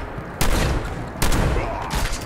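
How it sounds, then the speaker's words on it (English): Two sharp, loud gunshots ring out about a second apart in the video game Fallout 76, each with a brief echoing tail. "Oh, the sound of the gunshots."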